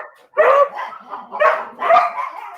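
Puppies barking close and loud in an indoor room, three bursts of yapping and yips in quick succession with short whimpery tails between them.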